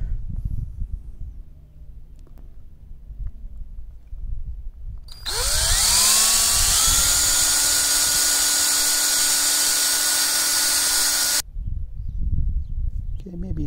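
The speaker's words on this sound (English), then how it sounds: "see if we can't drill that hole out just a little bit bigger" A power drill spins up with a rising whine and runs steadily for several seconds while enlarging a hole in a pig waterer, then stops. Quiet background noise surrounds it.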